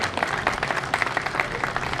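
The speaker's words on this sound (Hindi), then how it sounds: "एक बार जोरदार तालियों से इनका इस्तकबाल करें।" Audience applause welcoming Mahesh Dubey at a stage event, steady dense clapping throughout, moderately loud and continuous with a faint murmur beneath.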